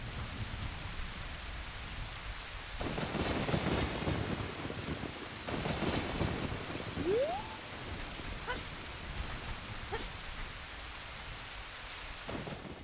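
Thunder rumbles and rain pours steadily in the Nintendo 64 game The Legend of Zelda: Ocarina of Time, with several loud rolling thunder bursts over a constant hiss of rainfall and a few brief sharp tones.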